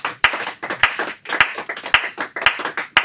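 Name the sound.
congregation clapping in church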